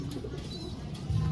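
Pet pigeons coo softly with low, rolling calls that repeat steadily. The sound is close by and fairly quiet, with no talking.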